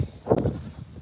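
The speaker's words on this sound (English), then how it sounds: "I think Elsa has to be our fastest goat by far" A goat on a farm gives a short, close bleat lasting under a second, against outdoor background noise.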